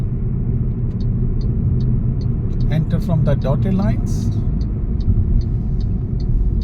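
A car drives through a U-turn during a driving test, its steady low engine and road rumble continuous throughout, with someone talking over it and a brief turn-signal ticking pattern in the middle.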